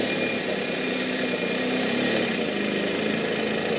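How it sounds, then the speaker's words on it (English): A 1965 Norton 650SS motorcycle engine, back after 35 years off the road, ticks over smoothly and steadily at idle, a close, even, continuous running sound with no talk. "First thing I notice is it's got a nice smooth engine. It ticks over nice and slowly."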